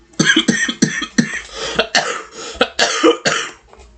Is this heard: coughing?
yes